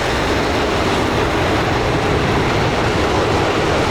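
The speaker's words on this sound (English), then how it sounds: "Decent afterburners." A Chengdu J-20 jet in Microsoft Flight Simulator throttling up to afterburner, producing a loud, constant broadband roar that holds steady throughout, with no voices over it.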